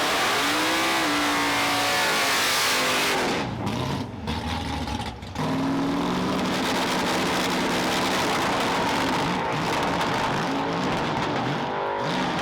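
A Dragpak drag car running lean on a soft-throttle launch, its engine popping and banging: a loud, continuous, rough engine roar for about twelve seconds with choppy bursts and brief dips partway through.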